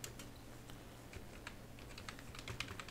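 Fingers typing a command on a computer keyboard, a quiet run of close, irregular key clicks that grows busier toward the end over a low steady hum.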